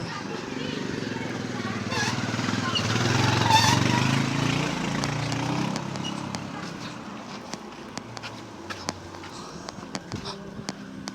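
A motorbike rides along a pitch-dark road at night, its engine a steady low drone that swells around the middle, with faint rattles and clicks toward the end.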